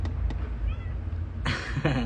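A cat gives a short meow near the end, after a quiet stretch of room noise and faint voices.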